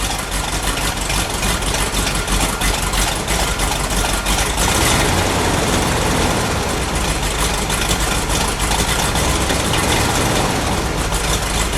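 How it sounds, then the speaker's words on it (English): A 1970 Plymouth Cuda convertible's 440 V8 idles close and loud, a thick, rough, lumpy rumble held steady for several seconds with no talking. "Just let me listen to it idle for just a minute."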